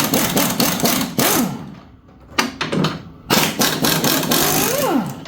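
A power tool rattles bolts out of a 2002 Ski-Doo ZR 600 EFI snowmobile chassis in several loud buzzing bursts with rising whine. Short pauses separate the runs, with no speech.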